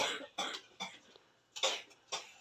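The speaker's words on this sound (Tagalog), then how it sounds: "May inuubo doon." A person coughing several times in a row, close and fairly sharp, in short bursts with brief gaps, in a home kitchen during a pork sinigang meal.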